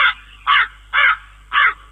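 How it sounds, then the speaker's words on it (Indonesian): A crow cawing four times at an even, spaced rhythm, each harsh call loud and close over a quiet background with a faint low hum. "Lalu Nabi Nuh mengeluarkan burung gagak."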